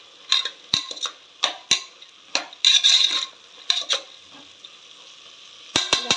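Brinjal and potato pieces are stirred with a spoon in a metal pot for a lima bean curry: sharp scraping clinks and rattles in quick bursts, close and loud, with a brief gap of quiet sizzling and no speech.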